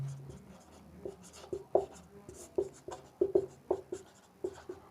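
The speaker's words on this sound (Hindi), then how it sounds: "नोट लगाकर लिखते हैं।" Pen writing on paper while taking notes in a class 10 chemistry lesson, a series of close, irregular scratchy strokes and taps, fairly quiet with no talk.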